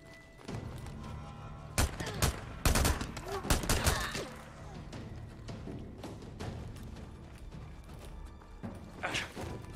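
Gunfire in the video game Days Gone: sharp bursts of shots cluster near the start, then scattered single reports and a final loud burst, over a low game ambience with a voice talking faintly at times.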